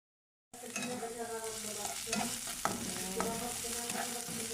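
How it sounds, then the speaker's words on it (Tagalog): Onion and garlic sauté in hot oil for beef pares, a steady close sizzle that starts after a brief silence and runs on with occasional clicks and scrapes of stirring. "naglagay ako ng mantika, magigisa tayo ng onion at garlic"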